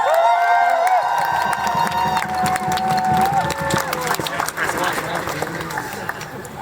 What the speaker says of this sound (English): Huge round of applause for Will,